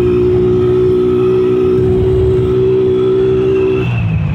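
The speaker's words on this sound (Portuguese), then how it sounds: "Tá vendo que o carro tá indo e sai." A car drives along a city street in Bauru at rush hour, its engine a steady loud hum with a rising whine that drops off near the end as it moves on.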